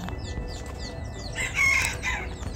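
A rooster crows among free-roaming white chickens at a mountain estate in Portugal, Real Quinta das Necessidades. The crow is one drawn-out call rising over steady outdoor background noise, with fainter bird chirps around it.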